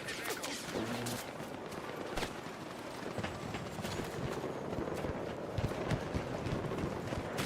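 Rapid gunfire in Battlefield 6 using the VHX rifle, a steady rattle of shots running continuously through the clip amid dense battlefield noise, explosions and clatter.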